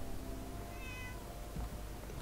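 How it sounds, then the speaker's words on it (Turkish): A cat in the video game Fallout 4 gives a single drawn-out meow, fairly faint over a low background hum, with no speech. "burada bir kedi var"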